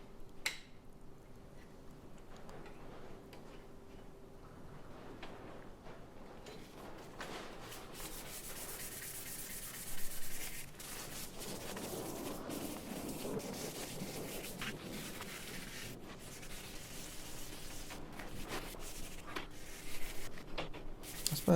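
Abrasive paper at 600 grit rubs back and forth over a titanium knife clamped in a file vise, a soft, steady scratching hiss with rhythmic strokes, quiet and close.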